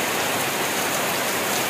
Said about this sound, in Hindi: बहुत बारिश गिर गया